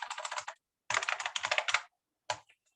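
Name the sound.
typing a root password on a computer keyboard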